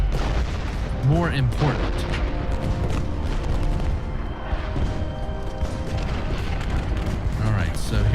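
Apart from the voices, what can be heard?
artillery volley firing in video game Ultimate General: Gettysburg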